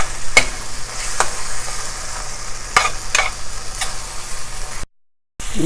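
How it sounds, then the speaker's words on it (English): Masala for chana masala being stirred in a frying pan: a steady sizzle with repeated spatula scrapes against the pan, broken by a short silent gap near the end. "I am still stirring them, but they are almost ready."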